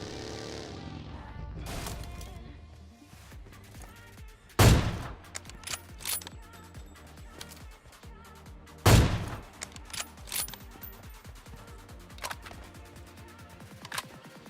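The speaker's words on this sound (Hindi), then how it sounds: "अभी लेफ्ट में ना फायरिंग का साउंड आता है" Gunfire in the mobile game PUBG Mobile, two loud sharp shots standing out amid scattered quieter distant reports and clicks over a low game background.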